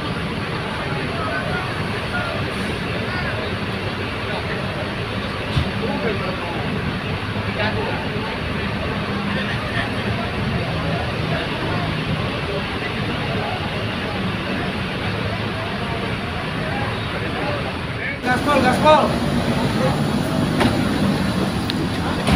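A Haryanto coach bus pulls away on a departure run to Jombang, its engine a steady loud rumble that swells near the end, with people talking over it throughout.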